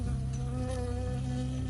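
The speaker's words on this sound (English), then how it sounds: "I got stung by a bee." Bee buzzing in the game Firewatch, a steady close drone that hums without a break under a low rumbling background.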